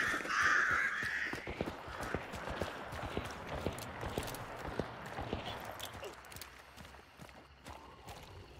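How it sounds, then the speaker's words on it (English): Footsteps in the Hunt video game bayou: faint, quick crunching steps tapping out an uneven rhythm over quiet ambience, with a bird-like call near the start and no talk. "I swore I just heard footsteps."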